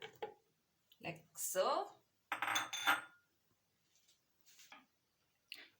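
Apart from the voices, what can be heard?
carrots being put into a blender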